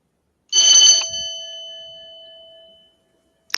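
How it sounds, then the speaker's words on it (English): A Dead Bell paranormal spirit detector rings once, a bright metallic ding whose clear tone rings on and slowly fades to silence, with a faint click at the end. "The Dead Bell, paranormal spirit detector"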